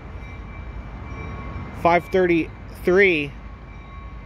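An Amtrak Capital Corridor passenger train departs Oakland's Jack London Square station with a low, steady rumble, while a voice speaks briefly over it.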